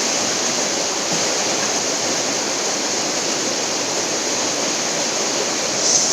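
Bridal Veil Falls in New Zealand, a 180-foot waterfall, roars as a loud, constant rush of falling water heard up close, unbroken from start to finish with no voices.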